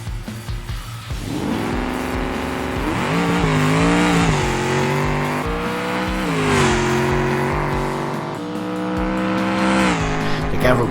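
The Gavel BlueBu drag car in BeamNG launches and screams through its run, a loud engine whine rising in pitch with several gear shifts over about ten seconds, alone without speech.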